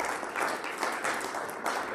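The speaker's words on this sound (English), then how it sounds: "Please, a round of applause as well" Gala dinner guests at an anniversary event give a short, moderately loud round of applause, a dense wash of clapping that swells and carries on evenly for a couple of seconds.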